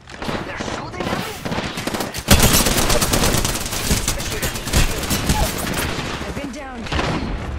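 Rapid bursts of gunfire in an Apex Legends ranked Arena match, loud and continuous after a sudden onset, with a player talking briefly over the shooting.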